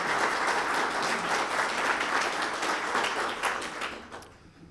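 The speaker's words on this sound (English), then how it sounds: "Give her a round of applause." Sustained applause from an audience at a city State of Our City 2020 event in Elmhurst, a dense steady wash of clapping that holds, then thins and fades toward the end.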